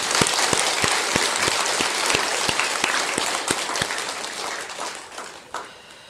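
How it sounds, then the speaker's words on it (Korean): An audience claps for the monks at a Korean Buddhist temple ceremony. The applause is dense and lively, with a steady rhythmic beat of sharp claps running through it, and it thins out near the end. "주지스님들과 대중스님들 위해서도 큰 박수 한번 부탁합니다."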